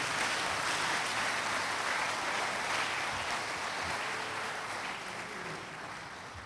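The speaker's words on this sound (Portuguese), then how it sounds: "Você quer dar uma salva de palmas a esse Deus, esse Jesus maravilhoso?" A church congregation gives a long round of applause during a Portuguese-language service, a dense, even roar of many hands that stays loud for most of the clip and tapers a little toward the end.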